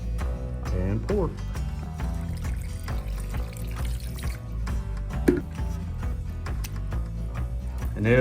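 Liquid marinade is poured over whole-muscle deer meat being prepared for jerky, a soft, running pour heard under prominent talking and other background sound.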